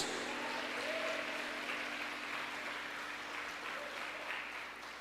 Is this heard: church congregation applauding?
yes